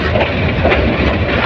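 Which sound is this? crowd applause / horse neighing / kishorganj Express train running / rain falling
kishorganj Express train running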